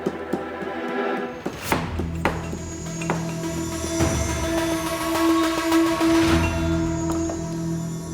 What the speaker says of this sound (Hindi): अदरक कूट रही है।